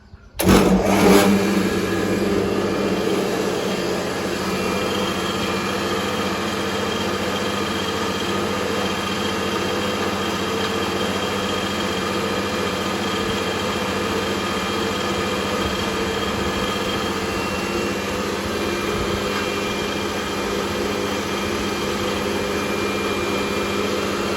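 A rice milling machine starts up with a brief jolt, then runs steadily with a loud, constant mechanical drone and whine, no voices.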